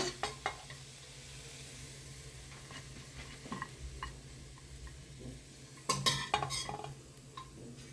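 Ponnanganni greens with grated coconut are stirred in a pan over a faint, low sizzle, with scattered clinks and scrapes of a spoon against the pan and a louder cluster of knocks near the end.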